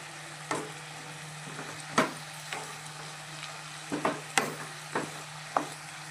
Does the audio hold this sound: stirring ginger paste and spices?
yes